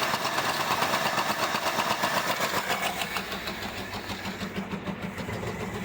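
Neglected 1975 Ford Granada V8 running rough after long disuse, close and loud, a fast uneven chugging idle that steadies and softens slightly over several seconds, with no talking.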